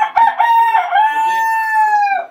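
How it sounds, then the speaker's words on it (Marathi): A rooster on a farm gives one loud, close crow, a long drawn-out cock-a-doodle-doo that rises and then holds a steady pitch before cutting off, with no voices. "एक कोंबडी"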